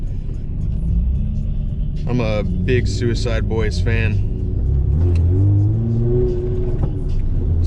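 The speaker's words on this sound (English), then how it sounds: "This car needs a new mass airflow sensor, so it runs like crap right now too. Tries to die all the time." A car with a failing mass airflow sensor runs rough and tends to stall, its engine giving a steady low rumble throughout beneath someone talking.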